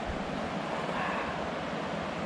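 Steady, dense rushing water from river rapids near Staircase Campground, Cushman Lake, Washington, fills the whole clip, a broad continuous roar with no pauses, close and loud.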